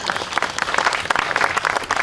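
Sustained audience applause at a book launch conversation, many hands clapping densely and evenly for about two seconds, fairly close and filling the room with no voices over it.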